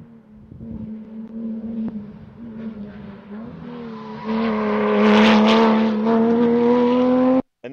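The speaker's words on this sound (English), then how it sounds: "or a Boxster that looks like a Cayman, that has been modified for racing, that was going around the track" A modified Porsche Cayman or Boxster race car laps the track at Monticello Motor Club, its engine droning steadily then swelling louder as it accelerates and passes close, ending abruptly.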